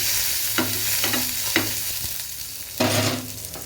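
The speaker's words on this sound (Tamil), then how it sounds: "எண்ணெய் காஞ்சிருச்சு, கடுகு போட்டுக்கலாம்." Mustard seeds, curry leaves and skin-on crushed garlic fry in hot oil, giving a continuous close sizzle broken by sharp crackling pops and spatters, with no talk.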